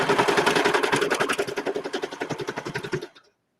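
Sewing machine stitching a fabric waistband in a rapid, steady run of mechanical clicks that slows slightly before stopping, close and clear with no talk over it.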